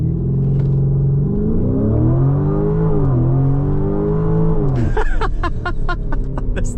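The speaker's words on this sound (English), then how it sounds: "let's do a little launch control in the Urus SE" A 2025 Lamborghini Urus SE makes a launch-control start in Corsa mode with traction control off. The engine drones loud and close and climbs steadily through the revs, then a burst of rapid crackles and pops follows near the end.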